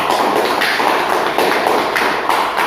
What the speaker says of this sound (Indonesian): kita beri aplaus yang meriah untuk kelompok 2